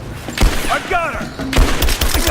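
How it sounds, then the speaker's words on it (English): Gunfire in the video game Rise of the Tomb Raider: heavy shots and booms crack up close, mixed with shouting voices and scattered impacts in a chaotic firefight. "Give me covering fire! Suppressing fire!"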